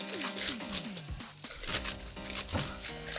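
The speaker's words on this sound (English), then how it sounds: "Sorry about shuffling the camera." A camera is shuffled and handled up close, giving crinkly rustling and scraping bursts with a few short knocks, uneven and fairly loud.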